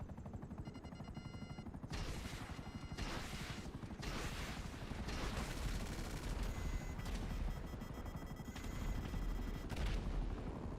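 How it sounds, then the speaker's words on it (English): Sustained gunfire in a Grand Theft Auto city street fight, loud dense bursts of rapid automatic shots and overlapping volleys continuing nearly nonstop with no talking. "I hear gunshots. I hear player gunshots."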